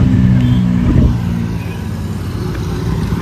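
A car driven fast with its engine revving, a loud, close roar of motor and road noise that eases slightly partway through and then holds steady, without talk.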